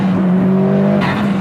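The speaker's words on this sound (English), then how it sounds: "ever since the upgrade happens, man, the car sounds way better" Mitsubishi Lancer Evolution engine with HKS exhaust upgrades, a loud, steady, close idle-like drone with a deep rumble and a faint rise in tone near the end, with no talking.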